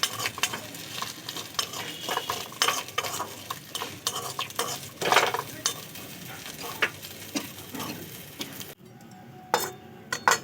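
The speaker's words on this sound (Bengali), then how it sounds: "আদাগুলোকে একদমই লাল লাল করে ভেজে নিতে হবে" Sliced ginger seasoned with salt fries in a pan until reddish. Constant sizzling runs under repeated scraping stirs and light utensil clinks, then cuts to a quieter stretch with a few final knocks.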